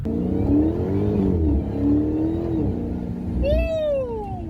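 Engine of a 2023 Dodge Challenger Hellcat Jailbreak revving while driving, a steady low rumble throughout with a rising rev near the end.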